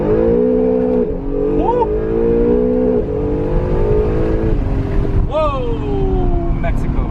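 An Acura NSX roars through a launch-mode start, engine revving hard and climbing through the gears with a sharp shift break, close and loud inside the cabin while occupants exclaim over it.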